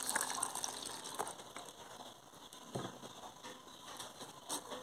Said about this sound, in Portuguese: Vou colocar um pouco de leite.